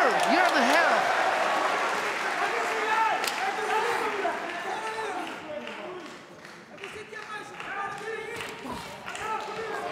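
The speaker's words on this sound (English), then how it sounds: "do you hear the crowd? It's unbelievable" A large crowd cheers and applauds at an OKTAGON 37 MMA fight, a loud sustained roar that swells and fades, with commentators talking over it throughout.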